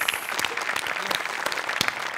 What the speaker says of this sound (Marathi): त्यांच्यासाठी टाळ्या वाजवायला पाहिजे